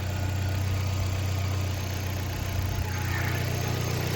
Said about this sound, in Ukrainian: Моторчик працює взагалі тихенько.